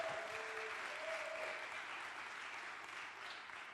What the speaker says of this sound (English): please a bigger round of applause for Miss Monica Berg.